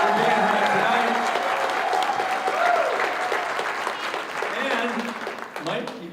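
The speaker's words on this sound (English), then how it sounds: "Let's give them a round of applause for being here tonight" Audience applause at a political speaking event in Chesapeake, Virginia, a loud sustained clapping of a crowd throughout, with voices and cheers mixed in.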